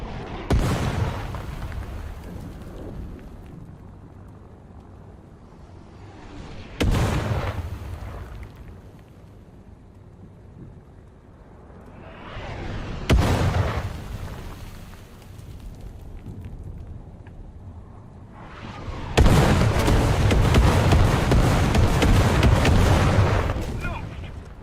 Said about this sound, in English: They changed the sound of artillery in the game as well. So you can hear it coming in.